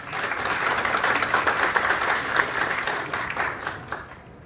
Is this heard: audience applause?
yes